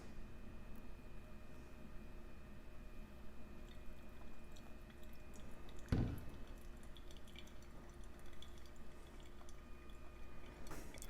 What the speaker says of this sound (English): The water keeps draining through quite fast.